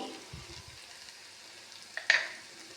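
Tomatoes with turmeric and chili powder sautéing in a pan for chicken curry give a steady soft sizzle, with a few low knocks early on and a sharper clatter of stirring near the end.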